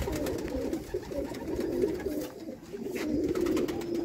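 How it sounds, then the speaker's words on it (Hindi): Rooftop pigeons coo steadily in soft, low rolling calls that overlap throughout, close by and moderately loud with no talking. "देखो यानी दोस्तों छत वाले कबूतर"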